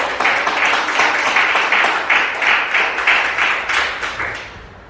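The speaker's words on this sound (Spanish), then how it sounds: "¿Cuánto le dan el más fuerte de los aplausos?" A church congregation applauds loudly and steadily for several seconds, with slight rhythmic swells, then the clapping fades out at the end.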